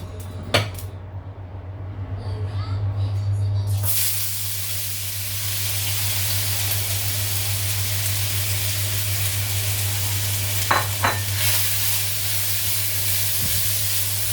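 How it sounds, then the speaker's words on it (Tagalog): Potatoes frying in a pan: after a brief clatter of cookware, a steady, loud sizzle and hiss fills the rest, with a few sharp metallic knocks of utensil against pan partway through. "Ipiprito ko yung patatas natin."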